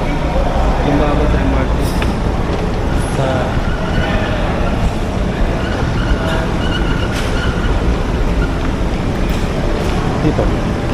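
An MRT train in Cubao, Quezon City, rumbles along the rails nearby, a loud continuous roar with occasional metallic squeals, and voices heard faintly in the background.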